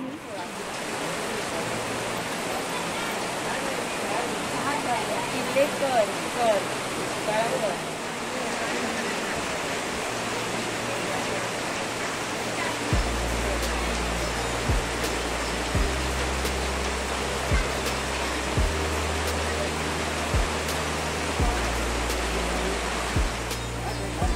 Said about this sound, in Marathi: पाऊस जबरदस्त लागलाय